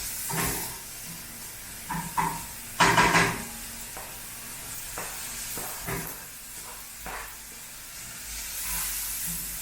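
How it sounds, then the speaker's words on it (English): Onion and grated carrots frying in a pan, with a soft steady sizzle and hiss under scattered stirring clatters and scrapes, one louder burst of utensil noise near the middle, close and moderately quiet. "I fry onion first. Little bit, and I add carrots"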